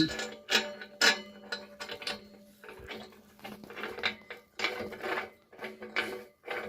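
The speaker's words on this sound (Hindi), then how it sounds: "बोल्ट को पार करने के बाद आपको बस टाइट करना है।" Bolts being tightened on the legs of an essential oil distillation unit, repeated metallic ratcheting clicks in uneven bursts, close and moderately loud with no voices.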